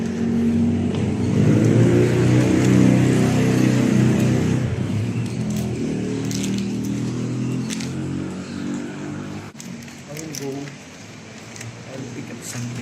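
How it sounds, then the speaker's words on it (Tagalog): Traffic on a highway in Busay, Cebu City carries a steady, fairly loud engine drone. A vehicle revs and passes early on, then the noise thins to a lighter rumble, and a voice talks over it. "That's the highway."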